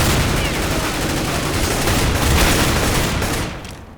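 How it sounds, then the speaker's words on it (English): Loud, close gunfire in CS:GO, a dense stretch of overlapping shots including shotgun blasts amid in-game noise, then tapering off at the end. "Grad actually shotguns the guy to death"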